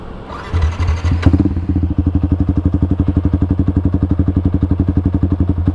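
A motorcycle engine fitted with an Aracer RC Mini X ECU starts and settles into a fast, even idle thump, loud and close, its rapid regular pulses running on without speech.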